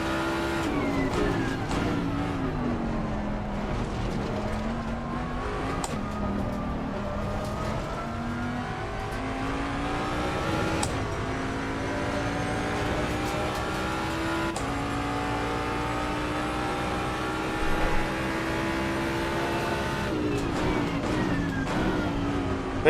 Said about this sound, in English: it revs and revs and revs